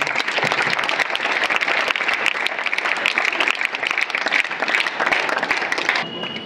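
An audience claps loudly at a school charity ceremony, a dense, continuous burst of applause lasting several seconds before starting to fade at the end.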